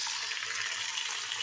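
Chicken added to light-browned onions, frying with a dense, even sizzle that stays steady and close for the whole brief moment, with no talk.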